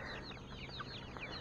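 Backyard chickens in a coop cluck in a steady, faint chatter of repeated short calls over constant background noise.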